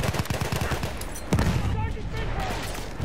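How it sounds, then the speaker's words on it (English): Machine gun fire in the World War I shooter Battlefield 1 multiplayer in the Argonne Forest map, loud rapid bursts of shots at the start, then a sharp blast followed by rumbling battle noise. "Machine gun, watch it"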